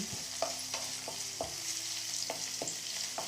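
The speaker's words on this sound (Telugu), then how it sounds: "పొడుగ్గా కట్ చేసిన ఎరగడ్లు రెండు రెమ్మల కరివేపాకు వేసుకుని ఫ్రై చేసుకోవాలండి" Sliced onions, torn dried red chillies and curry leaves fry in hot oil, giving a steady close sizzle with a few sharp stirring knocks against the pan, no voices.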